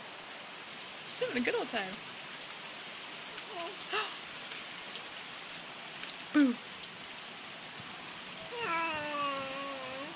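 Steady outdoor rain patters on surfaces throughout, a constant wash of drops while a small child and an adult talk and babble over it.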